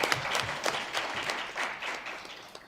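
Audience applause for a speaker at a Women In Sport conference, a crowd clapping steadily with a few sharper individual claps near the start, gradually easing off.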